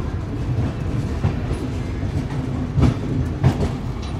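The New Jalpaiguri–MGR Chennai Central SF Express pulls into Khurda Road Junction, a steady rumble of rolling rail cars with soft clacks of wheels over track joints, heard close from on board.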